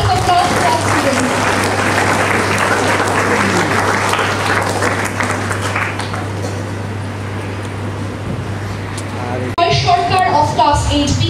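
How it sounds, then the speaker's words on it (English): An audience claps for students at a school foundation day and Gandhi Jayanti celebration, sustained applause filling a hall with a constant low hum beneath, fading slightly before a brief pause and a fresh burst near the end. "Please give a round of applause for our students."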